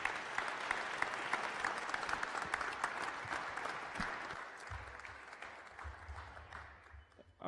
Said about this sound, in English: Please, a round of applause for our Washington City candidates.